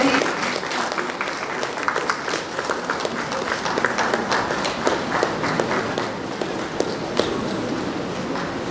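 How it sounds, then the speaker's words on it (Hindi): Audience applause at a literature festival in Haldwani, dense and loud clapping from a crowd, sustained and even throughout with sharp individual claps standing out near the microphone. "तालियां बजती रहे।"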